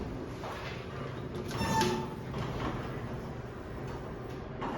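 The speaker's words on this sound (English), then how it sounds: "That sounds like an MAC door operator." A MAC door operator on a 1989 Lakeland hydraulic elevator in an office building, running with a steady mechanical hum and sliding rumble, one brief louder swell partway through, close and continuous.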